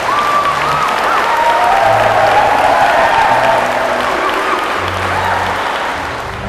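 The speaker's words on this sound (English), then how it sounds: "give them a round of applause on this" Wedding guests applaud the couple, Jonathan and Lindsay, on their wedding day: steady, dense clapping from a crowd that fills the whole stretch at an even, fairly loud level, with a few murmured voices beneath.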